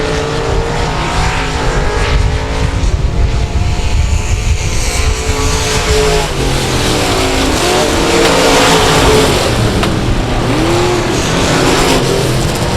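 Race cars roar side by side around an oval speedway, a continuous loud engine drone with pitch sweeps as they pass, no voices.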